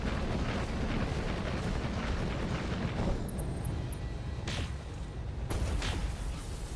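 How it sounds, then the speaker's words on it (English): Continuous roar of heavy gunfire and explosive blasts in a video game, dense and loud throughout with sharper bursts near the end and no talk. "Machine gun."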